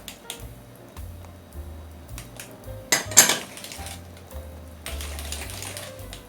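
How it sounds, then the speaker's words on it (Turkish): Chocolate cake batter is mixed in a bowl after baking powder and vanilla are added, producing rapid rhythmic clinking and scraping of a utensil against the bowl with a motor-like hum in bursts, close and steady, without talk. "Karıştırmaya devam ediyoruz."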